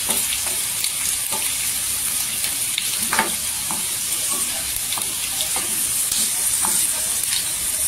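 Garlic sizzles in hot oil as it fries toward golden for a spicy chilli vegetable dish, a steady close hiss with occasional crackles and faint stirring, no talk.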